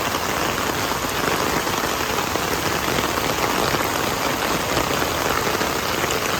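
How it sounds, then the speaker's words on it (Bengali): Heavy rain pours down in a rainy Bangladeshi season, a loud dense steady hiss of drops on surfaces with no break and no voices. "খুব সুন্দর বৃষ্টি অনেক সুন্দর বৃষ্টি হইতেছে"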